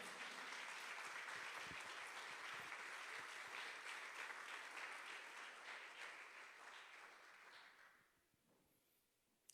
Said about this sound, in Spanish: ¿Cuántos le pueden dar un fuerte aplauso al Señor en esta mañana?